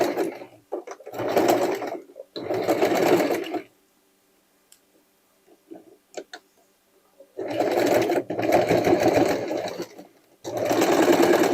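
A sewing machine stitching a dress from sweatshirt and denim scraps runs in loud, close bursts: two runs, a quiet pause with small clicks, then two more long runs.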